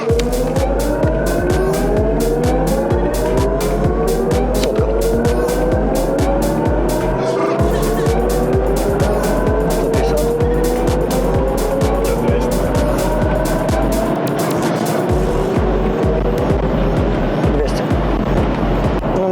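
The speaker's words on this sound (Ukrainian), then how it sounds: "будемо зараз заміряти, скільки ж все-таки їде до п'яти чи після п'яти автівка" A BMW iX50 electric car accelerates hard from a standstill, its rising whine sweeping upward steadily for nearly twenty seconds, loud and close, with road and tire noise underneath and people talking over it.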